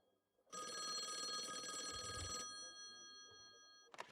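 A telephone rings in the video game Call of the Elder Gods, one bright electronic bell burst lasting about two seconds, fairly quiet and alone, followed by silence and a faint click.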